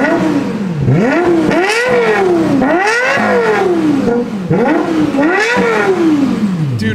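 A Lexus LFA's engine revs hard in repeated rising and falling sweeps, about four loud close pulls with sharp drops between them, a howling harmonic-rich note under steady road and wind noise.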